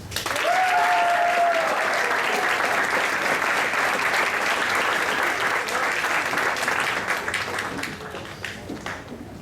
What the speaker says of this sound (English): just everybody can stand and cheer